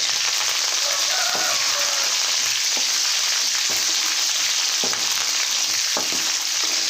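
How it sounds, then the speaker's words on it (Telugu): Onion pieces and curry leaves fry loudly in a pan for a Rayalaseema-style fish curry, a dense, steady, hissing sizzle with occasional stirring knocks, and no talking. "ఉల్లిపాయ ముక్కలు వేసుకోవాలి కొద్దిగా కరివేపాకు"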